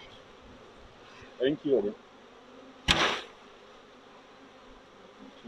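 Bees from a drone-laying hive being shaken hum in a low, steady buzz, broken by one sharp thump of the shaken hive near the middle, with a short burst of voices just before it.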